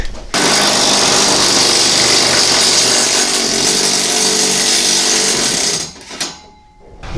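Continuous loud power-tool whine from an impact wrench driving bolts through the sheet metal of a G20 van, held steady for about five and a half seconds before cutting off, followed by a brief clatter.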